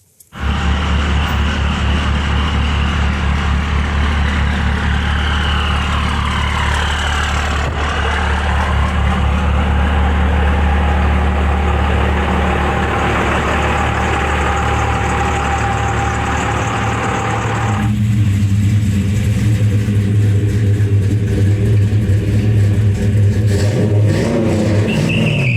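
A truck engine idles with a steady, loud low rumble and occasional revs, running continuously on its own with no talking.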